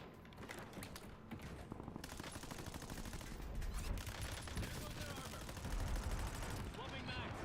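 Automatic gunfire in Call of Duty Warzone from a weapon wearing the Apocalypse mastery camo, dense rapid shots firing continuously and loudly, with game effects and faint voice chat mixed underneath.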